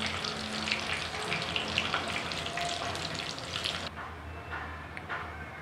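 Soft, close sizzle of king fish (surmai) frying in oil, a fizzy crackle that drops noticeably quieter partway through and continues faintly, with no talking.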